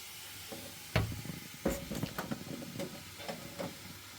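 Food for pumpkin chili cooking in a pan, a quiet sizzle with several sharp stirring scrapes and knocks at irregular intervals, close by.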